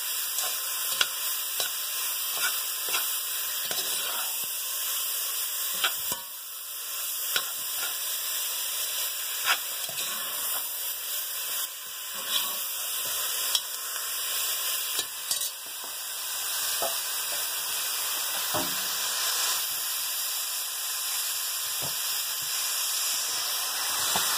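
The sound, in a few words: beef tips browning and sizzling in a pan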